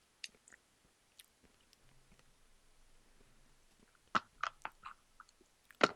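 Crunching on an edible cricket: close, crisp bites and chewing clicks come in a quick burst toward the end, after a few sparse faint clicks in near silence.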